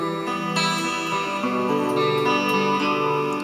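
An electric guitar picks a pattern across open strings for a song, with clear ringing notes in a steady arpeggio, played alone and up close with a light effects sheen.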